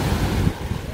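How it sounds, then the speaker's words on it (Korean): Strong sea waves surge onto a swimming beach at Wangsan Beach, with a rumbling wash of surf and gusty wind buffeting the microphone; the roar swells loudest at first, then eases into a steadier, lower churn. "보시는 것처럼 파도가 세게 들어옵니다"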